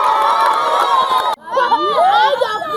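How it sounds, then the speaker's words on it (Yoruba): Children at a Yoruba-language quiz event in Okeho, Nigeria cheer and shout loudly as a crowd, the roar cutting off briefly before excited whoops and squeals rise again. "Ẹ pàtẹ́wọ́ fún wọn."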